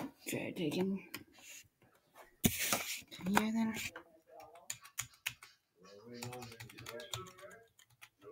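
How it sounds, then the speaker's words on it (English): Clicky typing on an external computer keyboard with a number pad, hooked up to a Chromebook; quick irregular key taps mixed in among a person talking nearby. "An actual keyboard, but with a number pad at least."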